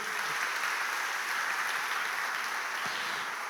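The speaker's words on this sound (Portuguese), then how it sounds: "Você pode aplaudir o Senhor mais uma vez?" A church congregation applauds steadily throughout, a dense, even wash of clapping from many hands filling the room with no pauses.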